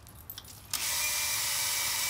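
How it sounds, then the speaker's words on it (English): Headlight lens wet-sanded with 800 grit sandpaper from a Harbor Freight restoration kit, a steady loud hissing rub that starts abruptly after a few faint sounds and continues evenly. "Let's start sanding."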